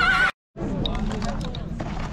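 A horse at a livestock market in Kara-Balta gives a brief wavering whinny, then after a short gap the busy market din of voices and movement fills in steadily.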